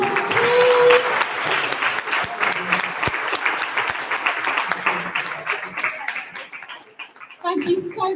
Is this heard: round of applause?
yes